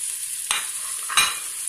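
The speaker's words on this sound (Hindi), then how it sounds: "इसमें मैं अदरक लहसुन डाल रही हूँ पिसा हुआ" Ground ginger and garlic hit hot oil with frying onions, giving a steady bright sizzle broken by two quick stirring scrapes, close up with no talk.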